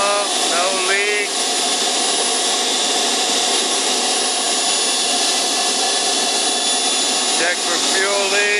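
A model RC jet turbine engine for an F-105 Thunderchief build idles at 35,000 RPM, giving a loud, steady high-pitched whine and roar that holds constant throughout, with a few brief rising tones.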